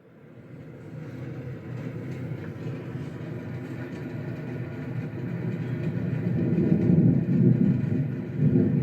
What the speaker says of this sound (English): So you notice we started off with the thunderstorm, something light.